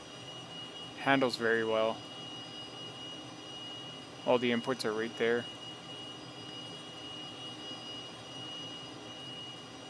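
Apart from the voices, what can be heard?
Cessna T-37B jet engine in flight simulator video game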